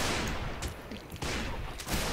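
Sustained heavy gunfire in a dense volley, loud and close, with continuous overlapping shots across the whole stretch, broken by brief lulls.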